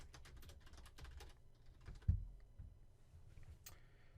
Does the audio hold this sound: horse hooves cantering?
no